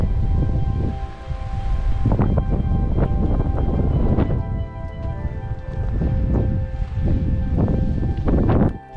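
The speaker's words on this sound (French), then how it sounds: "Alors ici, le vent s'en donne à cœur joie." Strong wind at Vaison-la-Romaine, France, roars steadily into the microphone, buffeting in gusts with a low rumble and rustling throughout, no voices heard.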